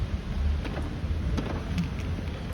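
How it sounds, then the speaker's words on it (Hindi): Heavy monsoon-season rain pours steadily as a shower grows stronger, with low thunder rumbling underneath the constant hiss; no one speaks. "तेज हो रही है बारिश।"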